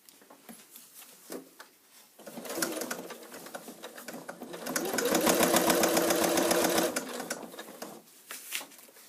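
A sewing machine stitches slowly across a fabric seam for a bag, starting with soft, sparse needle ticks, then building to a steady, rhythmic whir in the middle before easing off.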